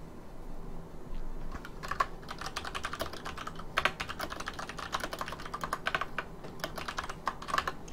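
Rapid typing on a computer keyboard, with dense, fast clusters of light key clicks and occasional louder strokes, steady and close, with no talking.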